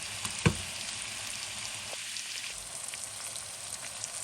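Meat for a preserved spread fries in a pan with a continuous, fairly quiet hiss and sizzle and scattered small pops, including one sharp louder crackle early on.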